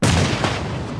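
Gunfire in the battle royale video game PUBG Lite, a loud, close shot with a sharp onset followed by a booming echoing decay lasting about a second, no talking.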